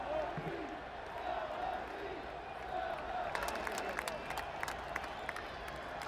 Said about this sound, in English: Coliseum crowd buzzing.